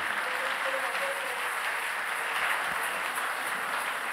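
Congregation clapping together in a church service, steady sustained applause filling the room at even loudness throughout with no talk over it.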